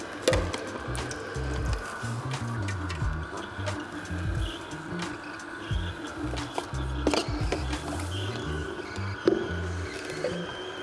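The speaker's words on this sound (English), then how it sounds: "And let the juicer do its magic" A slow juicer presses whole tomatoes, giving a steady mechanical grinding with irregular creaks, clicks and squelching pops running continuously at close range, with no talk.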